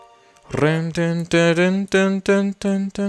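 A repeated musical phrase with strong harmonic tones, each short note cut off and trailing into a pronounced echo, the repeats clearly audible between hits.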